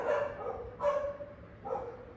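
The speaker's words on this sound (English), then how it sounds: "Now this doggy who is barking" A dog barks three times in short, evenly spaced yips, faint and somewhat distant, with no talking over them.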